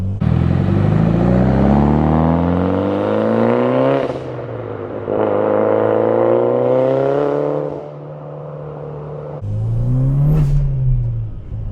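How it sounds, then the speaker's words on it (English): A Mitsubishi Lancer Evolution IX being driven: the engine note climbs steadily through the gears with strong rising harmonics, turbo whoosh and short drops at each shift, loud and close with no talking. "Turbo noises to start"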